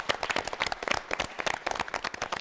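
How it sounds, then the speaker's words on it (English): A round of applause for a team at a quiz-style Brain Wave contest: dense, lively clapping from a group, fast overlapping hand strikes at close range with no talking. "let's give him a round of applause"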